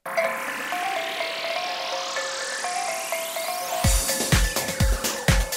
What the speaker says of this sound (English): Let's begin at the sound of the gong.